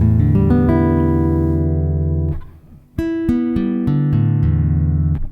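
All six open guitar strings are strummed together, ringing out in a full sustained chord that slowly decays before being strummed again around midway and ringing on.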